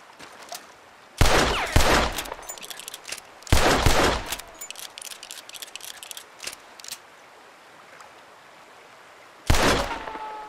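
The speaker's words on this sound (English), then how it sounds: "That lock should shoot off easy enough." Gunshots in the video game Red Dead Redemption 2, fired to shoot a lock off, heard as three loud, close bursts with ringing tails and quieter ambience between them.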